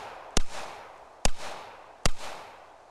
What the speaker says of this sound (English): I'm going to try to shoot just about as fast, and we'll go up and see what the results are with this Kimber.